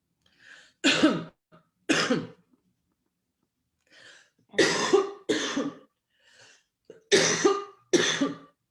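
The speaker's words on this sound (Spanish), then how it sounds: "Por Dios, y ahora que me dio la tos." Several harsh coughs and throat-clearing bursts come in pairs and clusters, separated by silence, from one nearby person.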